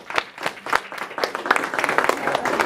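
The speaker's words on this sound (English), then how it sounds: "Big round of applause for that." A short burst of scattered clapping from a small crowd, light and uneven, building slightly toward the end.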